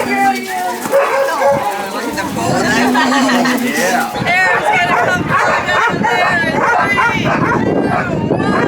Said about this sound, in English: I do want to show you some good sled dog footage.